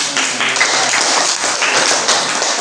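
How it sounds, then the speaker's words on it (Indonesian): Schoolchildren in a classroom clap their hands for a short, brisk round of applause, quick irregular pats heard fairly close, with faint voices underneath. "Tepuk tangan."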